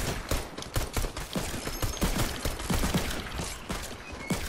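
Revolver gunfire in Fortnite mixed with other shots, a busy volley of sharp cracks fired in quick, irregular succession, loud and close, with mechanical clicks between them and no voices.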